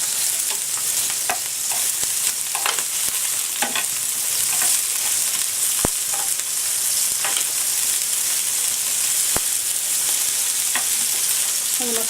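Prawns and mussels fry in a hot pan with a steady, close, continuous sizzle. Occasional soft clicks and stirring sounds break through, and no one speaks.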